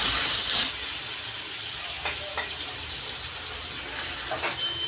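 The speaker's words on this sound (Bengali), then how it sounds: "আমি কড়াইতে মাছটা দিচ্ছি।" Fish with salt and turmeric dropped into hot oil in a wok for a prawn and greens dish, a loud hiss in the first moment that then settles into a steady, quieter sizzle with a few small pops.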